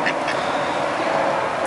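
A duck quacks loudly and close while eating a cracker, a continuous raspy burst of quacking and bill chatter with no pauses.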